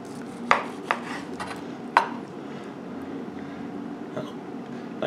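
A knife cuts peppers in half on a cutting board, giving a few sharp, separate chops and taps spaced across the moment, with quieter handling in between and no talk.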